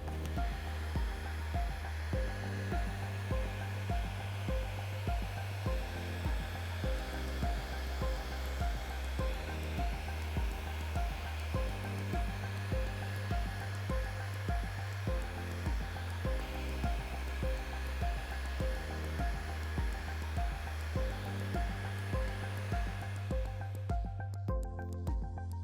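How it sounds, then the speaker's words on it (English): Heat gun on high, held about six inches from 3M ceramic IR tint film to shrink it on a car's rear glass, makes a steady close blowing roar with a repeating rhythmic pulse and cuts off near the end. "going to be about 6 inches away with the heat gun on high"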